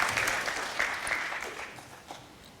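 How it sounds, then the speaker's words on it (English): Audience applause at a talk about smart cities, a dense wash of clapping that starts strong and gradually thins and fades out. "Let's give him a round of applause."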